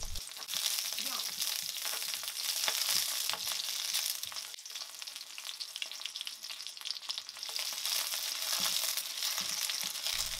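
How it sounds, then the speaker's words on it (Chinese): Scallion, ginger, bay leaf and star anise stir-frying in a hot wok, with a steady loud sizzle and scraping stirs throughout, no voices. "锅热之后就先爆香葱段、姜片，还有一些香叶、"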